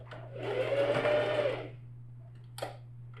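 A sewing machine stitching backpack lining, one fast whirring run of about a second with a short backstitch, then quiet over a low steady hum and a brief clack near the end.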